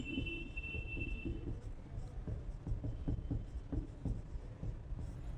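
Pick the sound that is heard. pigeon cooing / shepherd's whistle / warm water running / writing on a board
writing on a board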